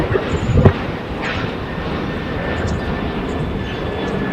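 A Delta Airbus A320-211 airliner landing on LAX's south-side runways, its engines a steady, moderately loud roar with a faint high whine and a brief thump near the start, and no speech.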